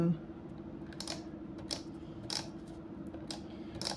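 An adhesive tape roller runs over creased paper in short crackling strokes, several quick bursts in a loose rhythm over a low steady hum.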